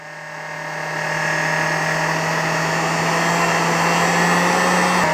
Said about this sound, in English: man, this heat gun sounds like shit.